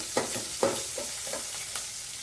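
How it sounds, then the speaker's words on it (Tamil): Mustard seeds splutter in hot oil over a steady sizzle, with about five distinct pops scattered across the moment, close by and without voices. "நல்லா கடுகு பொரியுது."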